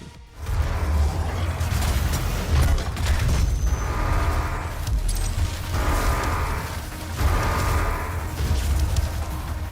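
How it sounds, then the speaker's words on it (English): A chain gun fires in a DOOM game, a dense rapid-fire mechanical rattle with heavy low thump, sustained in bursts with brief pauses between, loud and close amid game sounds and no speech. "the chain gun may not give immediate results, but the way it just tears through enemies alone is why we love it so much"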